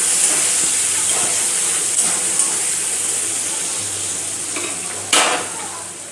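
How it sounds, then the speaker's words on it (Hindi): Onions frying in a pan with bay leaf and whole garam masala, a loud steady hiss and sizzle close up, with a sharp clatter near the end. "अब हम प्याज को अच्छे से ब्राउन कलर आने तक भून लेंगे।"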